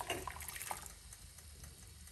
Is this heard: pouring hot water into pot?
yes